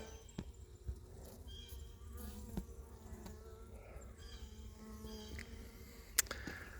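Honeybees hum faintly and steadily around an open, struggling hive with only a few frames of bees, the soft buzz broken by occasional handling clicks and knocks of the frames.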